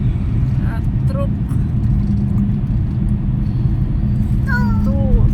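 Steady heavy rumble of a truck passing on an Indonesian toll road, loud and continuous throughout, with a voice and other people talking briefly over the engine noise.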